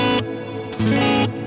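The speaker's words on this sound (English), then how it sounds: "you hear all that low end come back in the reverb." A strummed guitar chord swells in a lush Walrus Audio R1 reverb pedal with its low-end EQ turned fully up, giving a full, heavy low end, followed by a second chord ringing out.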